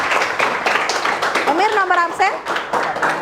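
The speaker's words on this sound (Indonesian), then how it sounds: "Oke, tepuk tangan dulu buat Emir." A classroom of students claps briefly for a classmate in a math lesson, the clapping mixed under a teacher's voice and student talk.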